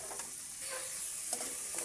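Fish sauce splashing into a hot pan for a Filipino corn soup, a soft continuous sizzle with faint ticks and stirring clicks, close and fairly quiet, no voices.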